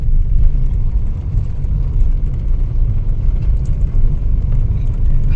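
A car drives along a road strewn with fallen boulders, giving a steady low rumble of engine and tyre noise that lasts throughout.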